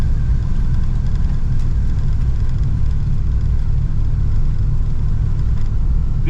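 A 1964 Oldsmobile 98's engine runs steadily while driving in gear, a loud, continuous low rumble with constant road noise and no talking.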